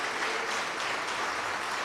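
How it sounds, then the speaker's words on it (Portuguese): A church congregation applauding the name of Jesus, a dense, continuous roar of many hands clapping together, loud and close throughout a short burst with no voices standing out. "Vamos aplaudir alto o nome de Jesus"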